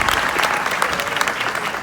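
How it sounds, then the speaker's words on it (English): A crowd at a BLEXIT event in Charlotte gives a steady, full round of applause, dense clapping sustained throughout. "You guys deserve a round of applause."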